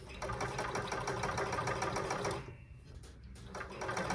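Blind stitch sewing machine hemming sheer drapes runs with a fast, steady mechanical whir and rapid stitching rhythm, then stops abruptly, leaving a quieter pause before faint mechanical sounds resume.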